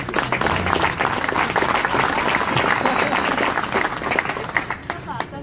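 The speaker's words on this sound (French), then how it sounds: "je vous demande d'applaudir" Loud, sustained applause from a crowd at the inauguration of a political candidate's office in Bastia, dense clapping throughout that tapers slightly near the end, with some voices mixed in.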